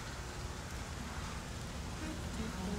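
Steady rain inside the video game Portal: Revolution, a continuous broadband wash of falling water held at an even, moderate level throughout with no voices.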